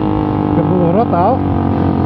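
A tuned motorcycle engine with a jetting fault, close and loud, idling roughly with a brief sputtering, wavering rise around the middle. Someone talks over it.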